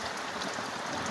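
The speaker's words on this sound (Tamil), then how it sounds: "முடியாது, மழை ஓரம் வருது." Rain falls steadily at an outdoor fish-frying spot, a dense, even hiss of drops pattering on surfaces, close and continuous with no talking.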